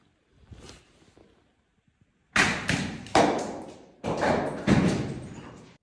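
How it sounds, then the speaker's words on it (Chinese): A stone is dropped down a vertical shaft cave in a remote mountain sinkhole in Fengjie, Chongqing: after a faint early rustle, a series of loud, echoing thuds and clatters follow as it strikes the walls on the way down. "来丢个石头听一下。"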